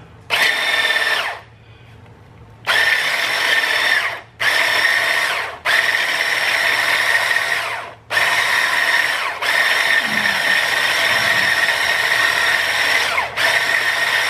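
Electric mixer with a balloon attachment whipping a creamy lychee and almond salad, a loud motor whir in several long bursts separated by brief pauses, close up with no talking.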